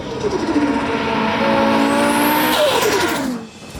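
A 2026 Audi RS3 five-cylinder engine revs hard up through the gears, a loud rising snarl with gear-change dips, then fades as it pulls away.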